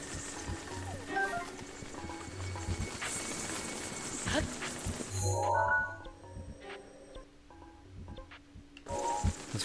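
A horse gallops in Zelda: Breath of the Wild, its rhythmic hoofbeats thudding steadily through the game's ambient sound before the action thins out near the end.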